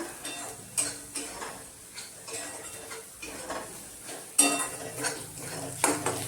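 Spice mix roasting in a pan, a soft sizzle under irregular clinks and scrapes of a spoon against metal, close and fairly quiet.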